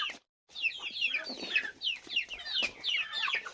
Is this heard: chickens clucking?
yes